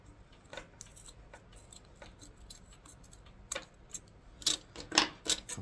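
Scissors cut crochet yarn on a cup carrier project: a few crisp, close snips come near the end after faint ticking handling sounds in a quiet room.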